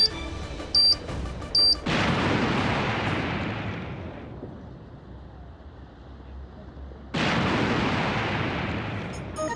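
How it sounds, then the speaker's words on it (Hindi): A bomb explodes in a film playing on a TV, heard as a loud roaring blast that decays over a couple of seconds, followed by a second similar blast after a quieter stretch, with brief beeps before. "बम इधर नहीं, उधर टीवी में फिल्म चल रही है, वहां पे फटा है"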